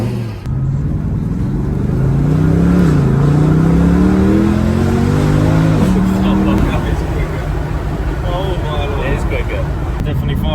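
A car engine revs and accelerates on a drive, its pitch climbing steadily over several seconds and then dropping, loud and close, with a person speaking over the engine noise.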